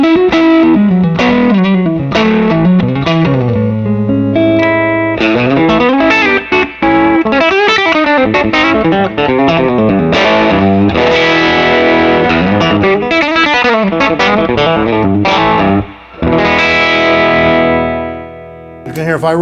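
An electric guitar played through a distortion-style pedal, with sustained, saturated chords and melodic runs, loud and close, ringing out at the end.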